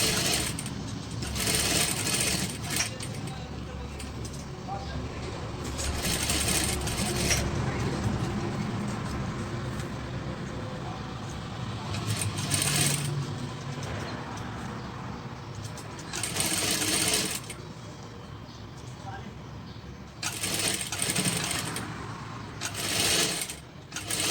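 A sewing machine runs in repeated bursts while stitching around the edges of a cloth face mask, its fast mechanical whirr starting and stopping several times over a steady background.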